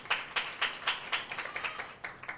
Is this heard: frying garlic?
no